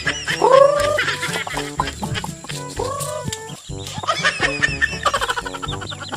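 Chickens cluck and squawk loudly nearby, several birds calling in irregular bursts with rising and falling notes throughout.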